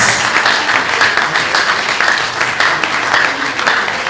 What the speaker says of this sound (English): take a round of applause for my VC, please